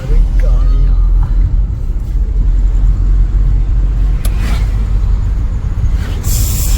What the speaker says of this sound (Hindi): सिंगल रोड है पूरा, आमने सामने की गाड़ियां बराबर आ रही हैं। बहुत ध्यान से गाड़ी चलानी पड़ रही है।